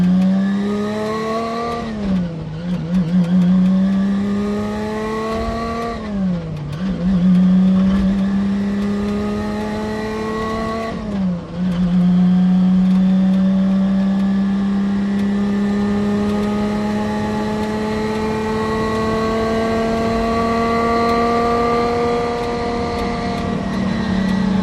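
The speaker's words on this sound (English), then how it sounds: "here's 30 seconds of Stratos going through the gears." A Lancia Stratos classic car engine climbs steadily through the gears, loud and close: revs rise, dip sharply at each of three upshifts, then build again in a long sustained pull.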